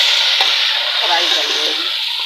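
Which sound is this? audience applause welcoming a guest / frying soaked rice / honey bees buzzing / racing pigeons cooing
frying soaked rice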